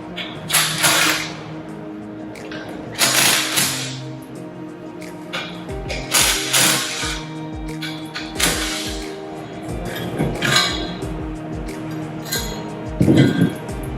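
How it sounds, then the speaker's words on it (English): The inlet manifold comes off a bolted metal Wilden air-operated double-diaphragm pump with a series of sharp metallic clinks, clunks and scrapes at irregular intervals, close and fairly loud, with no talking. "let's go ahead and take off the inlet manifold"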